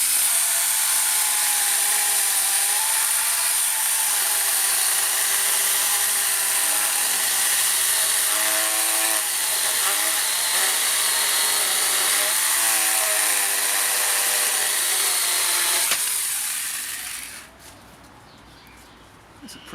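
Small 18V Banggood battery chainsaw cutting through wood, a continuous high whining buzz held for about sixteen seconds before the motor cuts off and winds down, close and loud.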